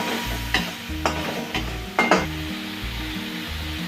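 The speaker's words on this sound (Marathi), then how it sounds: "त्याच्यात आपण टोमॅटोची पेस्ट टाकून घेऊया। पेस्ट पण व्यवस्थित परतून घेऊया त्याच्यामध्ये।" Tomato paste with masala sautéed in a pan for egg curry: a steady sizzle under repeated rhythmic scrapes and clinks of a spoon stirring against the pan, close and alone without talk.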